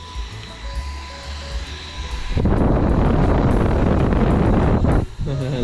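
A rechargeable portable Goojodoq electric fan is switched to 40% speed, and a steady, loud, whooshing rush of air replaces the quieter background about halfway through before it cuts off near the end.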